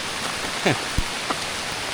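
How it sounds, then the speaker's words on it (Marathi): Steady, dense hiss of heavy rain pouring down at a river, with a couple of brief faint knocks standing out above the downpour. "नदीवर जस्ट पोचतच होतो तेवढ्यात मोठा पाऊस आला आहे."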